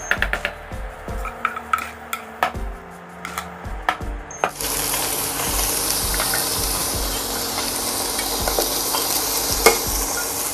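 Sliced garlic and bacon sizzle loudly in a hot pan for spaghetti aglio olio, a broad steady frying hiss that swells partway through, preceded by clinks and stirring scrapes.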